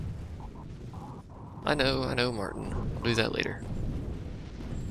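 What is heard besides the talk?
explosions in the video game Toy Soldiers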